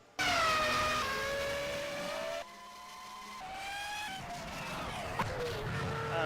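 A Formula 1 car engine from the F1 2000 racing game screams at high revs, its pitch sliding down through gear changes, then climbing again as the car accelerates, loud and close throughout.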